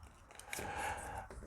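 A Seiko SKX007 automatic dive watch is shaken by hand to wind its movement, giving a brief, soft, close-up rattling and ticking shuffle.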